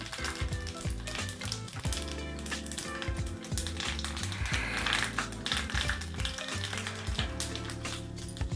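Mustard seeds and cumin tempering in hot oil crackle and pop in rapid, irregular clicks, with a soft sizzle underneath and background music playing throughout.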